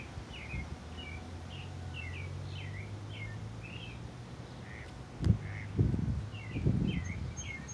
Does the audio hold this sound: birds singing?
yes